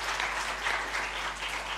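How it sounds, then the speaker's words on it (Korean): Church congregation applauding newcomers during a Sunday worship service: even, continuous clapping from many hands in a reverberant hall, fairly soft and steady with no talking. "박수로 다시 한 번 더 격려하고 축복합니다"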